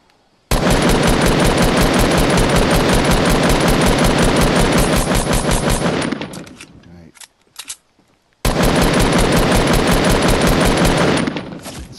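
Video game gunfire aimed at built ramps: two long, loud, rapid automatic bursts, separated by a few scattered single shots and a brief silence.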